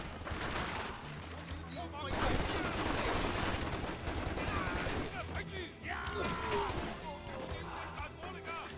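Dense gunfire from the video game Stranglehold, continuous rattling volleys mixed with crashes and splintering, loud and busy for the whole stretch.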